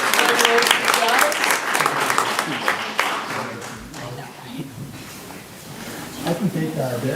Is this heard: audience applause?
yes